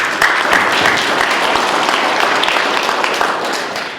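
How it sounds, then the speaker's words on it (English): A large audience at a business talk on supply chains and American manufacturing breaks into loud, dense applause, a sustained roar of clapping that tapers slightly toward the end. "Let's hear a round of applause for that"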